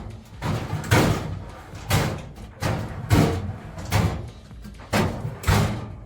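Metal drawers of a red Craftsman 1000 Series four-drawer rolling workstation cabinet, thinner-gauge steel and slightly dented, sliding open and shut repeatedly, about six loud rumbling slides with brief clunks at the ends, close by with no talking.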